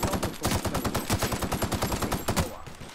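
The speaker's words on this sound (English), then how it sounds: "the encounter weapon I should be utilizing is the assault rifle, so let's use it" An assault rifle in The Outer Worlds, played on Xbox Series X, fires fast, loud automatic bursts. The shots come in a tight, steady rhythm for nearly three seconds, then cut off into a quieter tail.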